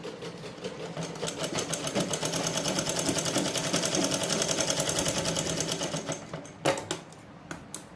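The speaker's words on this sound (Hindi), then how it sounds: "कॉर्नर पे डबल सिलाई लगा देंगे यहाँ पे" An electric sewing machine runs a steady, fast rattling stitch across the corner of a designer suit for a double seam, holding even for about six seconds before stopping with a few clicks and a knock.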